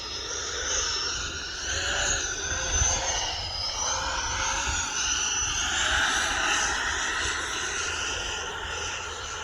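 E-flite 80mm F-16 Thunderbird RC electric ducted-fan jet in flight at high angle of attack, a continuous loud whooshing whine that swells and eases with throttle.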